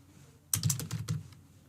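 Rapid keystrokes on a computer keyboard as test credit card details are entered, a close, quick run of clacking taps lasting under a second, with no talk.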